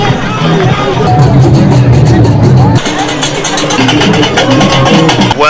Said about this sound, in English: chaos here in the middle of the square in Marrakesh, Morocco